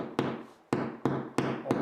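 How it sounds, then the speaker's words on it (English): Five sharp hammer taps drive a molly wall anchor into a wall, each a crisp close knock with a short ringing decay, spaced unevenly about a third to half a second apart. "Now I'm going to tap in the molly,"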